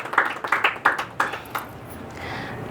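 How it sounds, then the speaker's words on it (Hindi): Sparse applause from a small audience at a Hindi poetry recital: a handful of sharp, separate hand claps near the start, thinning out and fading to quiet within about two seconds. "जोरदार तालियां"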